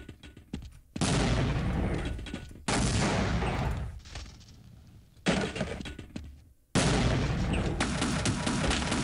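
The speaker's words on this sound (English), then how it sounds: "I've got grenades. Let's chuck a few of those back there." Grenades burst in the video game Half-Life, four loud, heavy blasts each followed by a rumbling, debris-laden decay, with short quieter gaps between them.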